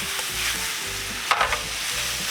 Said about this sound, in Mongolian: Хайрлын тагуун дээр хангалттай тос хийгээд жижигсэн дахиан маха шарнаа.